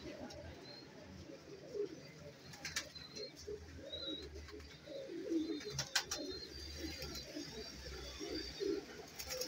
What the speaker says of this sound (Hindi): टेडी कबूतर है